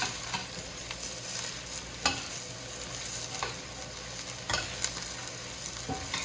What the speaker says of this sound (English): And give them a good stir